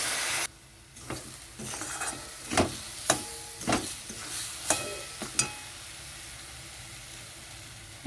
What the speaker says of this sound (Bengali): এখানে আমি দিয়ে দিচ্ছি জল একটু পরিমাণ মতো।